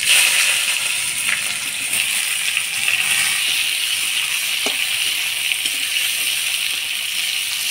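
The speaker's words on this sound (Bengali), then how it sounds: "এবার কুচিয়ে রাখা পেঁয়াজগুলো দিয়ে দিব" Chopped onions tipped into hot oil already holding whole garam masala, dried chillies, cinnamon, cloves, cardamom and bay leaves for a mutton curry, giving a steady bright sizzle with faint clinks throughout.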